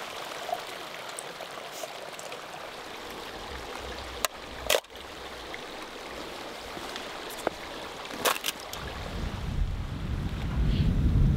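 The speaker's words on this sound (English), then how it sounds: "The river is half running, half frozen." Half-frozen mountain river running on a cold morning along the Everest Base Camp trek, a steady broadband rush of flowing water with wind buffeting the microphone and a few sharp knocks, the low rumble swelling toward the end.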